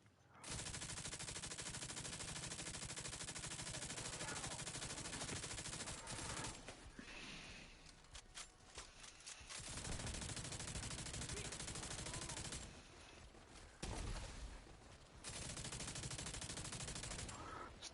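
A light machine gun in The Division 2 fires long sustained automatic bursts, broken by brief pauses and a few quieter stretches, the rattling fire dominating throughout.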